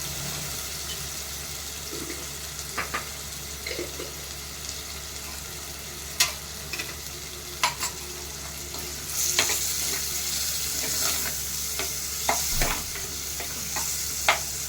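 Spices with turmeric and chili powder sautéing in hot oil, giving a continuous sizzle broken by scattered scraping and stirring clicks, moderately loud with no voices.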